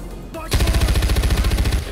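Rapid automatic gunfire in Far Cry 4 bursts in after a brief quieter moment, a loud, evenly spaced stream of close shots lasting to the end.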